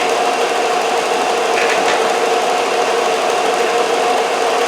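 A Harbor Freight 4x36 belt and disc sander runs at a constant loud pitch, a steady motor whir and belt hum with no load and no talking.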